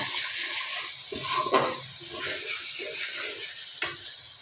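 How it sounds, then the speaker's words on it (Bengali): Spice paste stirred and sautéed in a pan for an olive chutney sweetened with date jaggery, a soft continuous sizzle with scraping spoon strokes and a sharp clink near the end. "মশলাটা এখন ভালোভাবে কষাবো"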